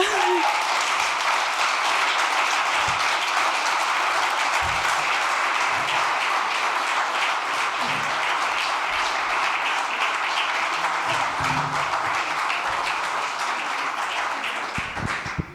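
Audience applause after a panel speech on hedgerows and nature restoration in Europe, loud sustained clapping running steadily for about fifteen seconds before tapering at the end.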